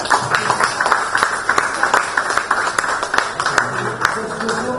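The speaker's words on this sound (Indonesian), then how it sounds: "Saya kira mari kita tepuk tangan semua." A crowd at an Indonesian civic gathering applauds with steady, dense hand clapping, with sharp individual claps standing out near the microphone, and voices murmur underneath.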